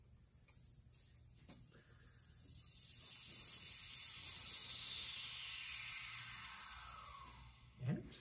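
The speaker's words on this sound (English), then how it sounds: "Sorry, release the vacuum." Air rushes into a vacuum chamber as the vacuum is released in a classroom science demonstration, a steady hiss that swells and fades over several seconds, moderately loud, with a brief clunk near the end.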